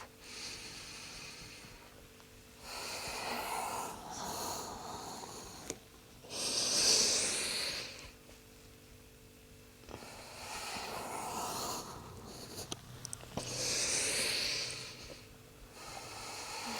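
Slow, deep breaths during an upper-body yoga flow, long airy inhales and exhales alternating in broad swells with quiet gaps between, close and fairly loud with no talk.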